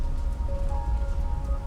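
Heavy rain falls in a steady, dense wash, with a low rumbling undertone and a few faint sustained tones running through it, continuous and fairly close throughout.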